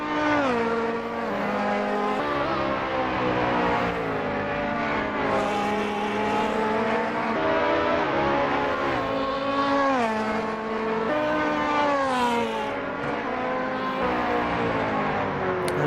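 Ferrari GT2 race car in a sim racing game on the streets of St. Pete's, its engine wailing continuously through rising and falling gear changes, loud and close for the whole stretch.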